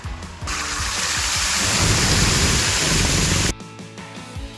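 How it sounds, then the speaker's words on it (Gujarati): Heavy rain pours as a loud, dense hiss that swells into a broad roaring rumble like thunder, then cuts off abruptly, leaving scattered low knocks and thuds. "જો ખાલી વરસાદ જેટલો આવ્યો"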